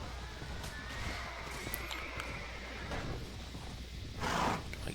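A horse whinnies during a battle in the video game Mount & Blade Warband, a faint neigh rising late over steady battlefield noise and hoofbeats.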